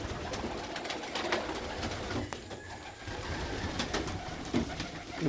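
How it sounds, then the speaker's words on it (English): Racing pigeons in a loft cooing softly among scattered clicks and wing flutters, close by and steady for a few seconds with no one speaking. "Got a lot of good racing pigeons now."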